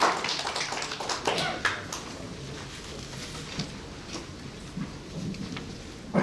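Scattered applause from a forum audience welcoming a professor's presentation, fairly faint and uneven with a few louder claps near the start before thinning into sparse, distant clapping.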